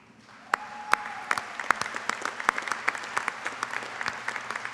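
Scattered, fairly distant clapping from a commencement audience for the graduating class of 2020, individual claps standing out sharply over a soft crowd bed.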